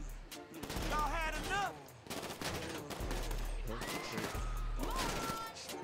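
Bursts of gunfire in the video game GTA 5 crackle in rapid clusters over a low engine drone, with people talking over the shooting.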